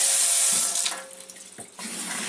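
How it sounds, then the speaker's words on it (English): Cold water running from a Leveluk K8 water ionizer, a steady hissing flow like a tap filling a sink, easing off briefly midway before resuming strong. "And so now what we'll do is we'll run some water through,"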